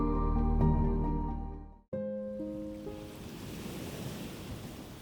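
Sustained musical tones cut off abruptly, giving way to a steady wash of ocean surf and wind on the open sea around remote Tristan da Cunha. The rush is moderately loud, continuous and has no speech.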